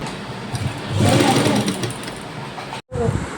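Sewing machine stitching the side slit of a lining kurti, a steady close-up mechanical whir that swells in the middle, stops briefly near the end, then starts again.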